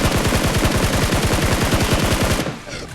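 Automatic gunfire in the mobile game PUBG Mobile, a loud rapid burst of evenly spaced shots that runs for over two seconds, then cuts off abruptly.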